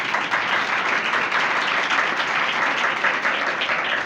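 A church congregation breaks into steady, loud applause, many hands clapping together at an even level throughout.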